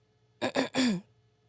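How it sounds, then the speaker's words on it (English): A man clears his throat in three quick bursts, two short and one longer rasping one, close and fairly loud against a quiet room with a faint low hum. "Sorry, I just have to clear my throat."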